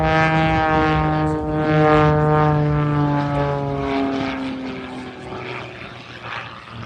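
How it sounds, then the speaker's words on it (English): A propeller aerobatic airplane flips through a maneuver at about 180 mph at the Oregon International Airshow in McMinnville, its engine droning loud and close with a sweeping, falling pitch as it passes and pulls away. "he flips the airplane."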